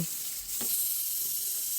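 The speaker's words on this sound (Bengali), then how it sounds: "খুবই সামান্য তেল দিয়ে নুন হলুদ দিয়ে আমি আলুগুলো ভালো করে ভেজে নেব" Potatoes frying in a little oil with salt and turmeric, giving a soft, steady sizzle with a brief stir or clink near the start.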